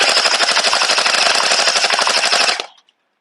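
SKD-CS0001 gel ball blaster fires full-auto, a rapid loud stream of mechanical clicks and thuds lasting over two seconds before cutting off abruptly into silence.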